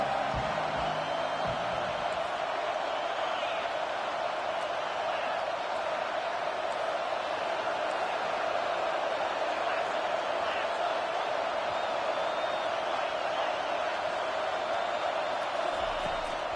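Sustained stadium crowd noise on third down in a college football video game, Ohio State versus Oregon, a constant roaring wash that stays steady throughout with faint cheers rising within it.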